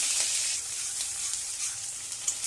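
Whole spices, onion and chili sizzle steadily in hot oil in a pan, a close, continuous bright frying hiss with occasional pops.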